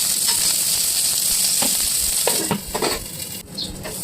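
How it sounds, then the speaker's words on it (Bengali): Bitter gourd pieces frying in a little mustard oil in a wok, giving a steady close sizzle throughout with a few faint stirring clinks and scrapes toward the end. "কড়াইয়ের মধ্যে সামান্য সর্ষের তেল দিয়ে ভেজে নিতে হবে উচ্ছেগুলো।"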